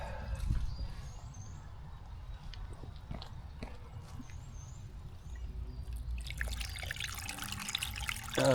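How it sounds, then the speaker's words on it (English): Water trickles from the spillway of a homemade backyard bird spa, a faint, uneven dribble with scattered small splashes and drips, growing brighter and splashier toward the end. "So there's the water coming out of the spillway."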